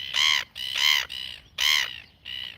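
Seagulls in Oamaru gather around someone eating, giving five loud, harsh squawking calls in quick succession, close by, with no talk in between.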